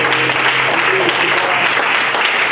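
Congregation at a French-language prayer service applauding and cheering together, a steady wash of clapping filling the whole moment, with voices mixed in.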